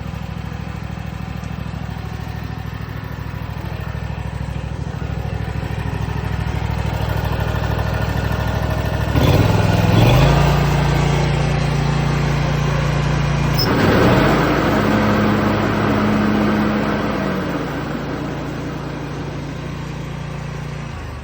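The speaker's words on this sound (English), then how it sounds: "Just gonna start my mower here. Okay. Gonna let it warm up for a little bit." A Scag Patriot lawn mower engine starts and warms up after a deck belt replacement, idling steadily up close, then revving louder twice with a rough, throaty drone before settling back.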